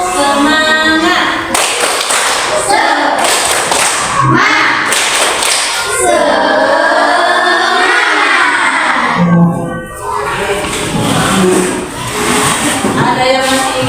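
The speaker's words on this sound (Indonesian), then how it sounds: "Mulai 1, 2, 3, tepuk semangat." Classroom group doing a rhythmic spirit clap, loud bursts of unison clapping in a patterned beat, alternating with chanting and speaking voices between the clap sequences.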